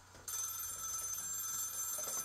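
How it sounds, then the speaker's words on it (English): An old landline telephone rings with a steady, continuous electric bell tone, moderately loud, over faint room noise. "This is the old phone."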